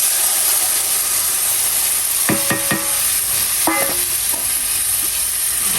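Boiled greens cooking in a pan with a constant hiss, while a few clustered clinks and scrapes of stirring and mashing come briefly in the middle, near and unvoiced.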